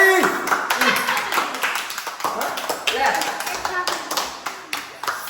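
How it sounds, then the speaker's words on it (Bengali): People clap at a birthday celebration in brisk, uneven bursts of hand claps, some near and sharp, while voices chatter and cheer over them. "জোরে হাততালি।"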